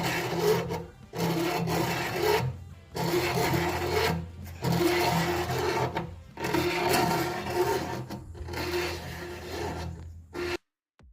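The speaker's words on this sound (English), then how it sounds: "You can see the ridge reamer is just starting to take the top edge, the bottom edge of the lip off." A ridge reamer cuts the ridge lip off the top of an engine cylinder, a harsh rasping scrape in repeated strokes of one to two seconds separated by short silences, close and loud.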